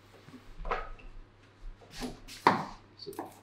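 Knife chopping stir-fry vegetables on a board for a sea bream stir fry, a few sharp separate cuts spaced irregularly, close and fairly quiet, with no one talking.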